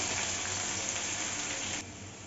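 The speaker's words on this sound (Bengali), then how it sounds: "আলুটা একটু ভাজা হোক" Salted potatoes frying in a pan for a green papaya and chickpea dish, a dense, even hiss of sizzling oil close by that drops slightly in level near the end, with no talking.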